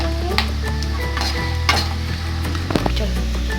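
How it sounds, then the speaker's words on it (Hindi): Peanuts fry in a pan with a steady close sizzle, while a spoon stirs and scrapes the metal in a few sharp clinks and knocks; no one speaks. "उसको मूंगफली को थोड़ा सा फ्राई कर लेंगे। इसे हम 2 मिनट तक और फ्राई करेंगे।"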